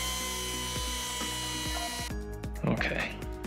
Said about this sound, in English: the posterior chamfer cut to complete the femoral resection